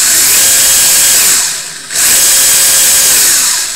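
RC drift car brushless motor run through a Toro120 ESC with no boost or turbo: a loud, steady high-pitched electric whine that ramps up and holds, drops briefly midway, then revs back up.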